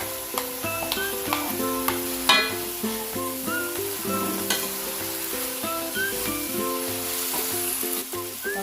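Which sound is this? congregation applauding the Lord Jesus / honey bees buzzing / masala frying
masala frying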